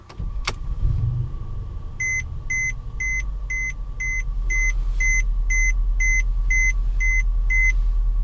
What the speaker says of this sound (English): I'm gonna go ahead and start her up.